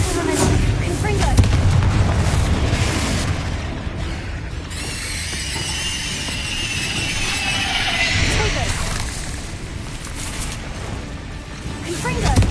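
Blasting-spell explosions in the Hogwarts Legacy video game: heavy booming blasts and rumbling impacts layered with game effects, recurring through the sequence, with a voice casting spells over the action.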